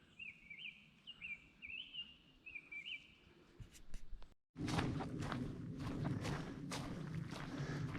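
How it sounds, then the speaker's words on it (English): Birds sing in a forest along the Lone Star Hiking Trail, with repeated chirping phrases over a soft background. A brief dropout is followed by louder rustling and footsteps close by. "listen to the birds."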